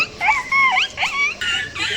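A dog whimpers at home with a series of high, wavering whines and short yips in quick succession, close and fairly loud.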